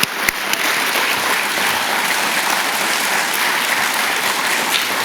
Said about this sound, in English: let's go with the big round of applause